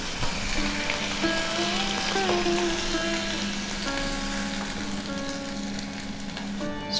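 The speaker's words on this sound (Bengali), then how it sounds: "স্টক সমেত সবজি ফুটতে শুরু করে দিয়েছে" Vegetables simmer in chicken and prawn stock for restaurant-style gravy noodles, giving a steady close bubbling and sizzling hiss that runs continuously without talk, with faint tonal hums in the background.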